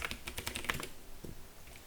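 Typing on a computer keyboard while entering a Roblox username: a quick run of crisp, close key clicks that thins out into a few scattered taps, with no talking.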